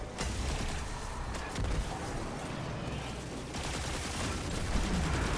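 Rapid gunfire from the 7th Seraph weapon in the Destiny video game, a dense continuous burst of shots with clattering texture, fairly loud throughout.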